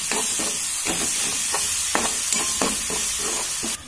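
Ginger garlic paste hits browned onions in a hot pan and gives a steady sizzling hiss, with stirring scrapes repeating over it at an even pace.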